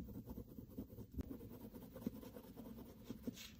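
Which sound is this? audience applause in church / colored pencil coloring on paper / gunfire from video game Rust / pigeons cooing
colored pencil coloring on paper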